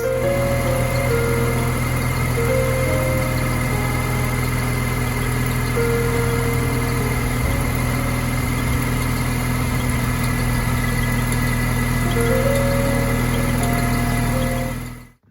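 An R53 Mini Cooper S engine idles steadily and loudly up close with a constant low rumble and death-rattle vibration, then cuts off abruptly at the end.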